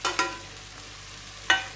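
Half-fried cauliflower tipped into a hot pan of mixed bhujia and stirred, giving a few short scraping, sizzling bursts near the start and another near the end, with a low simmer in between.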